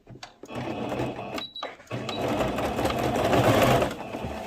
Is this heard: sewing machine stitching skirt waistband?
yes